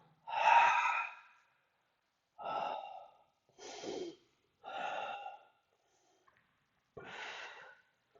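Forceful breaths during a Pilates ab exercise, five separate sharp puffs spaced about a second apart with quiet gaps between, close and fairly clear with no talking.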